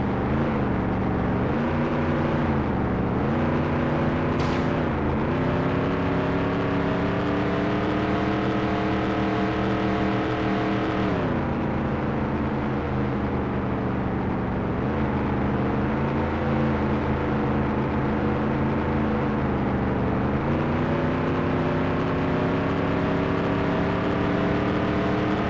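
Race cars from the NASCAR 98 video game roar continuously, engines rising and falling in pitch through gear shifts and corners, loud and steady with no commentary.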